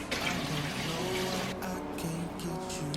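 Bleach-dyed clothes rinsed under a running tap, a steady close wash of flowing, splashing water that continues throughout with no talk.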